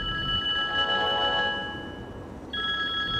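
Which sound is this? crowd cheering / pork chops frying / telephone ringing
telephone ringing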